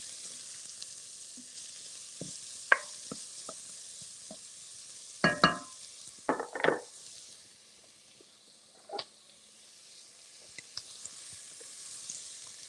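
A whole sweet onion cooking in a pan, with a low, steady sizzle under scattered clicks and scrapes of stirring and a few louder knocks near the middle; no voices.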